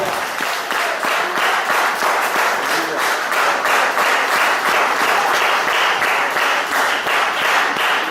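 Church congregation applauding in steady, rhythmic unison claps, loud and close, sustained for several seconds with faint voices underneath.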